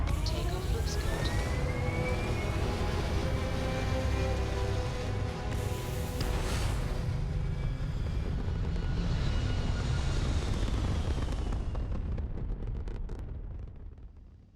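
A spaceship lifts off in Starfield, its engines giving a loud, sustained roar with a rising whine that builds and then fades toward the end, close and heavy throughout, with no speech heard.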